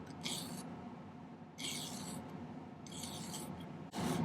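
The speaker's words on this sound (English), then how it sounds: "I'll file the second side so it's relatively flat." A metal hand file rasps across a silver ring band in repeated strokes, four close scraping passes with brief pauses between them.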